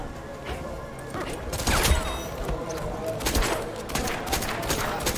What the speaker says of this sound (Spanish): Esa mujer da unos golpes como que no hay más round